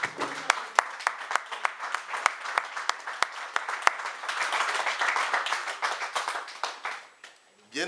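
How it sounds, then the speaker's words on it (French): A church congregation claps and applauds in praise of God, a quick rhythmic pattern of hand claps that swells into a fuller, dense ovation before fading out. "Est-ce qu'on peut acclamer l'Éternel pour ses paroles?"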